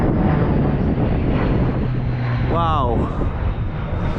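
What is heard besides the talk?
airplane flying low overhead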